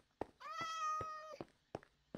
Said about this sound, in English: now where did that cat go?